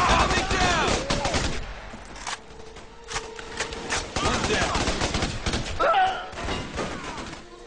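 Gunfire in the video game Raven Squad, loud bursts of automatic shots and single cracks with heavy thuds, close and intense, mixed with other battle effects.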